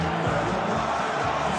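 A large football crowd at an AFL match, Sydney against Adelaide, cheers as the players run on, a loud, dense, continuous roar with no breaks.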